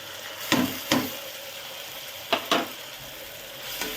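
Onion, tomato and ground masala fry for egg biryani under a soft, steady sizzle. A spoon taps and scrapes the pan in a few short clusters, and there is no talking.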